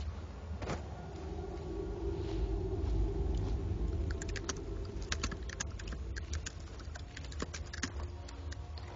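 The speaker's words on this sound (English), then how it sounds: "if I can hear typing, so can the chat" Keyboard typing clicks through the second half, quiet and irregular in quick bursts, over a steady hum of game sound with no voices.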